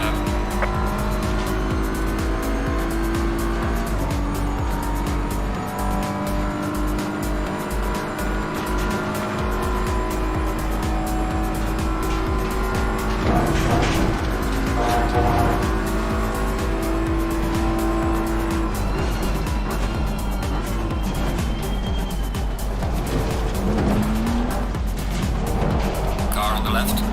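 Race cars lap a circuit in the Assetto Corsa Competizione racing game, engines droning steadily throughout with bursts of tire squeal, while a spotter's voice speaks over the racing.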